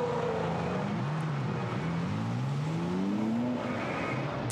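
A KTM X-Bow GT4 race car in a GT4 European Series race at Misano, its engine note rising and falling as it enters the pit lane, loud and steady over continuous track noise.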